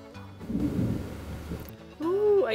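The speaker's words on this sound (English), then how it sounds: "I can hear the thunder. I think the storm is coming." Thunder from an approaching storm rumbles low and muffled in the distance for about a second and a half, indoors, before other sounds take over.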